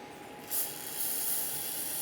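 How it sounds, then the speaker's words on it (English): Solvent sprayed from an aerosol can into the slider pin ports of a front brake caliper on a 1995-2001 Ford Explorer, a close steady hiss that starts suddenly about a quarter of the way in and continues without a break. "I'll spray some solvent in there."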